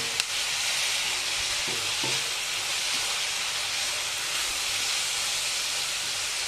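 Continuous steady sizzle of prawn masala frying in a pan with occasional soft stirring scrapes, close and unbroken, no talk.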